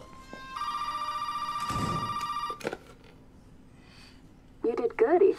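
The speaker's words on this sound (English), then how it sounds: "knew the goddamn phone would ring." Telephone ringing in the horror video game Resident Evil 7: a steady electronic ring tone sustained for about two seconds, then stopping, followed by a short creak and a voice speaking.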